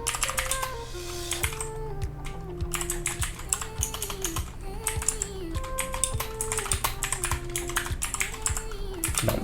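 Rapid key clicks on a Tsunami Outemu MK-68 Max RGB 68-key gaming keyboard, a steady run of close, crisp taps with music playing underneath throughout.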